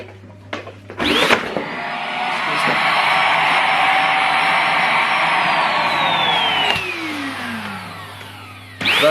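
A Goodmans corded 2-in-1 vacuum cleaner switches on with a click and runs with a loud, steady whine, then spins down to a falling tone before another click at the end.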